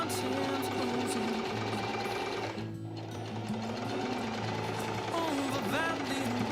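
A sewing machine runs close and loud while stitching the hem of a babydoll dress, a continuous whirring drone with one short pause partway through. Music plays underneath.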